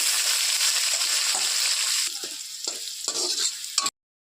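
Cumin, chili and potatoes fry in hot oil for khichuri, starting with a loud, close sizzle, then quieter frying broken by several stirring scrapes before it cuts off sharply.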